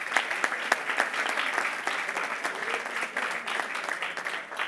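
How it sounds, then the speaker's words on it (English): Sustained applause from a graduating class at a Glion hospitality school bachelor's ceremony, dense steady clapping from a large crowd filling the whole stretch without pause. "Give yourselves a round of applause"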